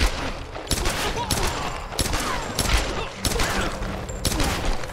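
Repeated gunfire bursts in Tomb Raider (2013), loud rapid volleys of shots with booming impacts spread through the clip, mixed with game effects and some talking.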